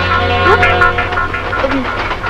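A moving train gives off a steady low rumble with rail clatter underneath, while voices talk close by over it.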